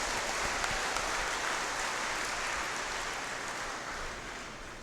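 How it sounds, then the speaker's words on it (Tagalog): A church congregation at a Sunday Mass gives a round of applause, a soft, distant patter of many hands that stays fairly steady and slowly tapers toward the end. "Bigyan natin siya ulit isa pa malakas na palakpak."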